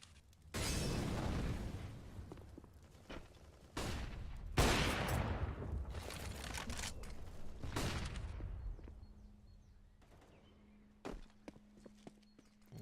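Gunfire and explosive bursts come from a Counter-Strike match during an AWP sniper duel, loud and repeated over several seconds, then thinning out to a low hum and a few sharp isolated shots.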